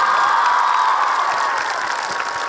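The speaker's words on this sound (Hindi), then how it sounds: "मैं एक बार जोड़कर मेरे पिता के लिए तालियां बजाना चाहूंगा दोस्तों" Audience clapping and cheering in honour of the speaker's father, a wrestling coach, as a continuous wash of crowd noise with a few shouts, moderately loud throughout.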